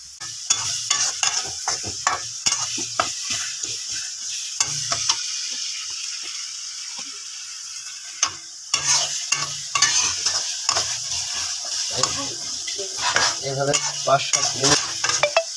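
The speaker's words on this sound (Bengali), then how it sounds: "নাড়াচাড়া করতে হবে এভাবে একটু ঘন ঘন খুব ঘন ঘন নাড়াচাড়া করবেন" A spoon scrapes and stirs khichuri with lentils and potatoes in a hot pot. Rhythmic strokes knock against the metal over a steady sizzle, pausing briefly midway before resuming.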